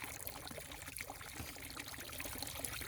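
Water trickling through an adjustable valve into a pitcher, with a faint, continuous, steady dribble close by and no talking.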